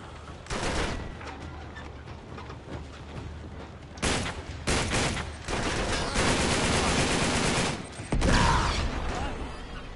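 Heavy video game gunfire from Uncharted with Nathan Drake, sustained automatic bursts and fusillades that are loud and near, with surges around the fourth and eighth seconds and a faint voice now and then.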